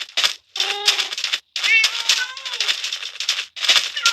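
Cats in the video game Minecraft mew repeatedly, several short high-pitched meows arriving in quick bursts with brief gaps between them, close and clear, alongside rattling clicks.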